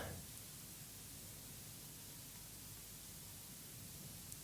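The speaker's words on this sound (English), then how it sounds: "White noise. Maybe a monotonous whir or a hum." Steady, even broadband hiss that continues without change for the whole stretch, with no voices or other sounds.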